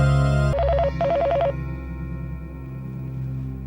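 An incoming-call telephone rings steadily, its repeating electronic trill loud and close, cycling in short bursts over a sustained tone with no voices present.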